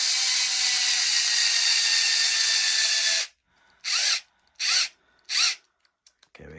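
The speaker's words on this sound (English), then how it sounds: "Low battery on the goddamn drill." A cordless power drill with a low battery runs during an RC kit differential build, one long steady whir followed by three short bursts and a couple of faint clicks.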